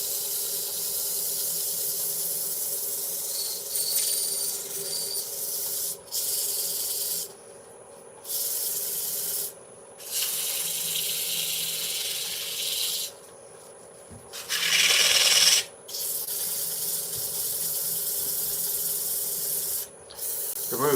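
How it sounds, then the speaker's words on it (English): Sandpaper at 320 grit rubbing on turned wood spinning on a lathe, a steady close hissing scrape broken by short pauses, with the lathe's hum running underneath. "let's sand it to 320."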